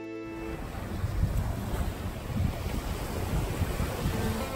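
Water taxi ride on the sea near Vallarta, Mexico, with a continuous rumbling wash of engine, hull and water under steady wind buffeting the microphone.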